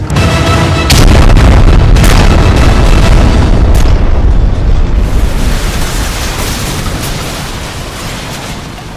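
A cannon fires in a war-game battle, a heavy explosive boom followed by a loud, rumbling roar and further blasts that slowly decay over several seconds.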